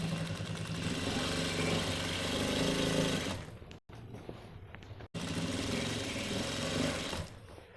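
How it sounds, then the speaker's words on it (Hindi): A sewing machine runs along the top edge of a trouser belt, a loud steady whirring hum that stops briefly twice, then resumes and fades near the end. "बेल्ट के ऊपर किनारे पे सिलाई मारेंगे इस तरीके से"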